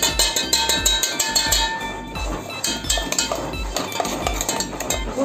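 Jaggery mixture being stirred into flour in a metal bowl, with repeated clinking and scraping of a spoon against the bowl in a steady rhythm, close and fairly loud, with no talking.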